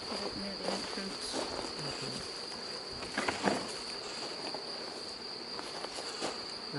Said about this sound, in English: they're all flying bees